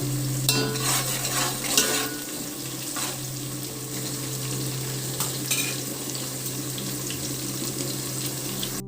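Fried vegetables and spices stirred in a pan for veg biryani, with a steady sizzle and scraping of the spoon, plus a few brighter clinks, close and continuous.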